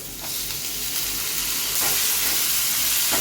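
Green chillies and chopped tomatoes hit hot oil in a pan for a fish curry, giving a loud, close, continuous sizzle that swells partway through.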